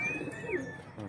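A racing pigeon coos softly at its loft on arrival, a single short call over quiet background.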